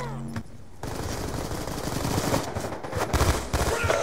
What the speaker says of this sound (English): the S12, it's semi-automatic. It's magazine fed, so you get quite a good rate of fire